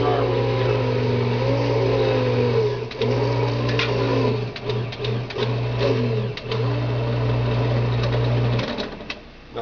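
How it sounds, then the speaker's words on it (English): A Norwalk juicer's motor runs with a steady mechanical hum that stutters and chugs in short uneven bursts as a safety cycle keeps it from sticking or overheating, close and fairly loud throughout. "that little chug-a-lugga sound you heard was a safety feature that keeps the motor from sticking and overheating"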